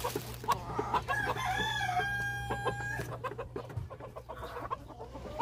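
Mohawk line and Jack Cross Athena vintage line hens cluck on a farm while a rooster crows, with scattered clucks and calls over a faint steady hum, all fairly quiet.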